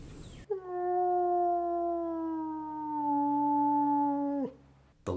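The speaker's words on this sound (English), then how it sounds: "The low, drawn-out howl of the wolf is one of the most recognizable sounds in the entire animal kingdom." A wolf gives one long, low, drawn-out howl that holds steady for about four seconds and then drops off, loud and clear with no other sound.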